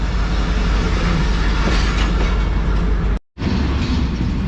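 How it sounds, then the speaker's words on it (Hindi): Shalimar Express passenger train pulling out of Digri Road junction station behind an HGM-30 locomotive, loud close rumbling roar with rhythmic clatter of wheels, briefly cut off before resuming. "तो भाई 7:10 पर जो है वो हमारी ट्रेन निकल चुकी है डिगरोड जंक्शन रेलवे स्टेशन से।"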